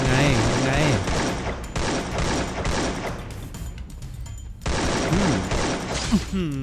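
Rapid bursts of gunfire from the Free Fire battle-royale game crackle loudly through most of the stretch in repeated volleys, while a voice talks over them.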